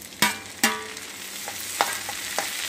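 Tomatoes fried in plenty of oil for egg keema curry, with a steady sizzle broken by a few sharp stirring scrapes and knocks in the pan, close and without speech.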